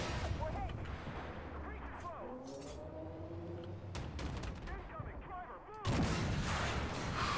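Tank cannon shots boom and crack in the Armoured Warfare video game while a Chieftain tank battles enemy light tanks, with several loud blasts amid continuous battle noise and a sharp burst near the end.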